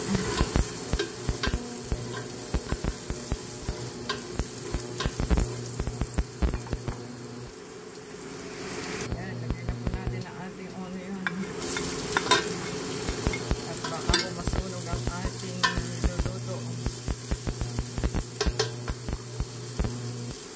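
Garlic sizzles in a frying pan with a continuous crackling hiss, broken by frequent scraping and tapping from a stirring utensil and a brief quieter lull midway. Nobody talks.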